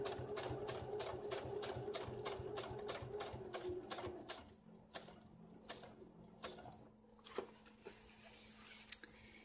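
Sewing machine stitching a winter coat, running in a fast even rhythmic clatter for about four seconds before stopping, followed by faint clicks and handling noises, quiet and close.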